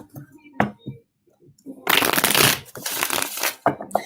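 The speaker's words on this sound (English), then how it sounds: "Fill me in while I start shuffling." Tarot cards riffle and slap together in bursts of papery shuffling, close up, with a few short knocks and rustles around them.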